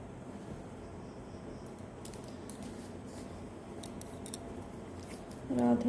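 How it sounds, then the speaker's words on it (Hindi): A deck of cards, set out for a daily reading, is shuffled in soft, faint papery flicks and taps, scattered and quiet, with a brief voice at the very end. "शफल कर लेती हूँ।"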